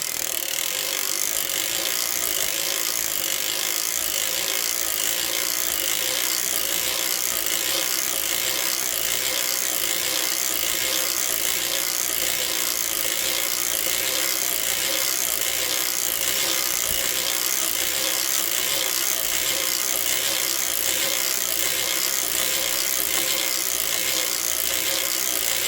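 Erlbacher Gear circular sock knitting machine cranked steadily through rows of a 48-stitch DK boucle slipper sock, giving a continuous, even, rapid mechanical ratcheting clatter that runs unbroken and close.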